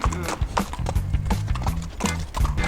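Horse hooves clip-clop in a steady, close rhythm on a town street at the edge of Silver City, during a horseback ride from Mexico to Canada, with faint voices and other sounds mixed in.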